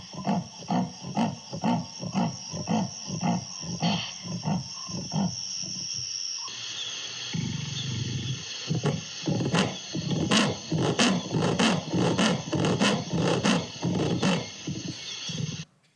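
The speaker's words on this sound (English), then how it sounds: "the leopards were roaring at the same time as when they were walking past the cameras" Wild leopards caught on camera traps give repeated rasping roars, a steady run of evenly spaced calls at close range, with a pause near the middle before the series resumes over a background of insect buzz.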